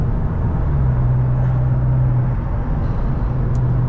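Steady, loud engine and road rumble from inside a Cupra car as it overtakes a truck, an unbroken low drone with no voices.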